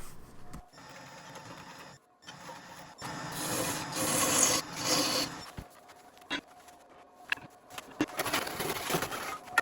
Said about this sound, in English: Using a 2 3/4 inch Forstner bit to drill out the inside.